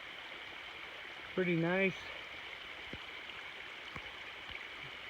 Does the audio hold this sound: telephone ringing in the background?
no